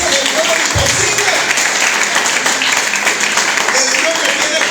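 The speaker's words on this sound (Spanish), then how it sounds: "Den un aplauso a Dios." A church congregation in Medellín, Colombia applauds God, a dense, steady wash of clapping close and loud throughout, with voices calling out over it.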